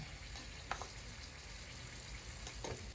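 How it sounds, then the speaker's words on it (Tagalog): Pork kare kare with vegetables simmers in a pot, giving a soft, steady bubbling with occasional small pops and clinks, faint and close with no talking. "Yan, halaan natin siyang kumulo para lumabot yung ating ibang gulay."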